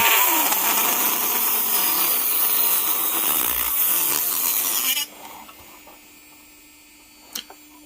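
A nail e-file drill whines loud and close at 30,000 RPM for about five seconds, then cuts off abruptly, leaving a faint hum and one brief click.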